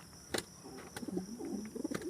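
A pigeon coos softly in a few short, low warbling phrases, with faint clicks and distant background noise around it.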